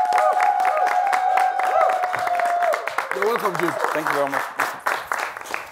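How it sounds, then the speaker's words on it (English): A studio audience claps for a guest on a talk show, a broad ripple of applause with scattered cheers, overlapped by a loud tonal sound and then by conversation from people in the room. "Please, a round of applause for him"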